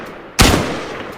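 A single sharp rifle shot cracks loud and close in a Tactical Assault video game, then a short reverberant tail fades away.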